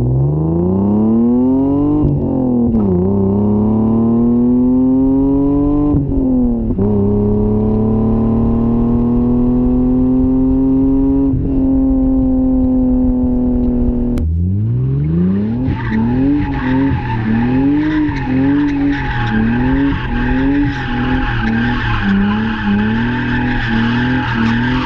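A car engine revs hard through repeated acceleration pulls, rising and dropping in pitch with each gear change and growing louder and harsher in the second half, with no talking.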